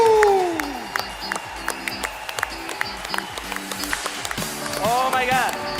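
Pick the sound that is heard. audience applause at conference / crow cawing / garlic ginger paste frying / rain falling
audience applause at conference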